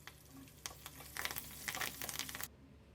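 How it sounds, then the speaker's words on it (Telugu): Fresh curry leaves dropped into hot tempering oil with fried dried chillies, crackling and sputtering in a dense burst of sizzle for about two seconds before cutting off abruptly. "ఫైనల్గా పచ్చికరివేపాకులు వేసేసి స్టవ్ ఆఫ్ చేసేసుకుందాం"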